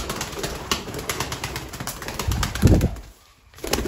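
Domestic pigeons coo in a low, repeated murmur close by, with a louder burst of activity near the end and no talking.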